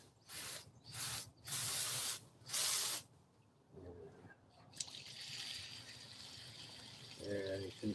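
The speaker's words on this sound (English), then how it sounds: "I'm tired of dealing with that fat spray." Water spraying in bursts from a gold cube recovery setup, with loud hissing spurts over the first few seconds, then a quieter trickle and faint background noise.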